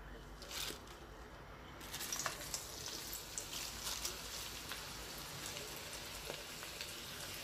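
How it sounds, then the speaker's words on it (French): Spinach frying in hot olive oil in a pan, giving a steady broad sizzle and crackle with small pops, close and fairly quiet, with no talk over it. "Dans ma poêle, je mets un filet d'huile d'olive. Je vais rajouter les épinards. L'huile elle est chaude."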